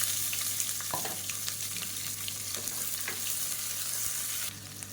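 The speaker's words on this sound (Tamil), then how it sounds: "வெங்காயம் நல்லா வதங்கிடுச்சு" Chopped onions sauté in oil in a pan for a salna curry, giving a steady, moderately quiet sizzle with faint crackles and light stirring scrapes throughout.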